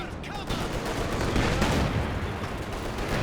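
Panzer Commander artillery fire in Company of Heroes 2 roars as a dense, continuous barrage of booms and crackling gunfire, loud and sustained throughout without a pause.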